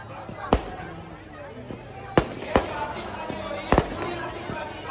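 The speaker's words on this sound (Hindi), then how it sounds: "भाई फाइनली रावण, रावण में बम पटाके जोर के बजने चाहिए।" Firecrackers burst inside a burning Ravana effigy at a rain-hit Dussehra celebration in Alwar, giving about five sharp, loud bangs at irregular intervals, two close together, over crowd noise and some talk.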